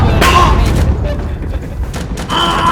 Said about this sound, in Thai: ตายโดนระเบิด